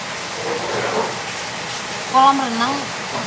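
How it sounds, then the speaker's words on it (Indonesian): Heavy rain during a night flood in Bali hisses as a steady wash of noise, with a person's voice breaking in briefly near the end. "Masih hujan katuh, dengar sendiri tuh hujan tuh."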